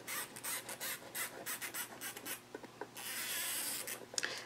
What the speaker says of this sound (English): And then I'll just mark it with my chalk wheel.